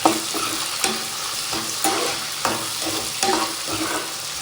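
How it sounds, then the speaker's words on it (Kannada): Chicken and onions sizzle steadily in a hot pan, with a spoon scraping and stirring in regular strokes roughly every second, close and fairly loud with no talking. "ಇವಾಗ ಇದು ಚೆನ್ನಾಗಿ ಫ್ರೈ ಆಗ್ತಿದೆ. ಇವಾಗ ಈರುಳ್ಳಿ ಹಾಕ್ತಾ ಇದ್ದೀನಿ."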